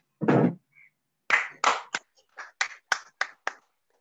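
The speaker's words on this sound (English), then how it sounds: "I want to stand up and clap" A few hands clapping in a classroom setting, starting with a loud burst and then a short run of sharp, separate claps that sound close and fairly loud, with no talking over them.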